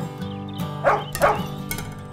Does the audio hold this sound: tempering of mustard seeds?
no